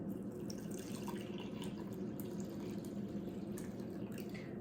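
Liquid pours continuously into a bowl for homemade pizza dough, a steady close trickling and splashing with no talk.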